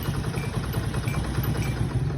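A 70cc motorcycle idles with a homemade smoke kit fitted, a steady low engine putter with a fast even pulse and slight clatter, close and continuous with no talking.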